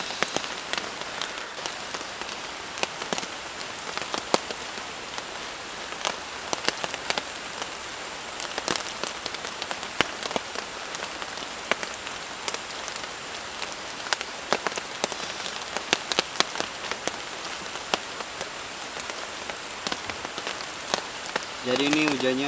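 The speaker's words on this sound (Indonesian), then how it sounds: "Jadi ini hujannya nggak berhenti-berhenti ya, dari sore sampai tengah malam seperti ini masih aja hujan teman-teman." Rain falls steadily on a forest campsite at night, a dense crackle of drops patting on surfaces that keeps up without a break, with a brief faint voice near the end.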